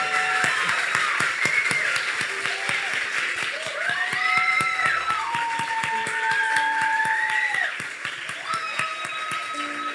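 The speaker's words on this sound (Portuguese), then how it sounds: "Vamos aplaudir Jesus?" A church congregation claps steadily during a worship service, crisp regular hand claps over sustained music and singing that carry through the whole stretch.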